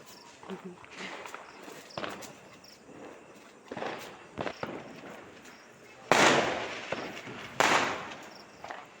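Several sharp firecracker bangs go off at intervals during Diwali in Raebareli, Uttar Pradesh, the loudest two near the end, between quieter shuffling and background voices.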